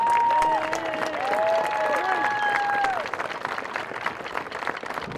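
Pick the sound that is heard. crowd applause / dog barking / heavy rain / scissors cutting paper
crowd applause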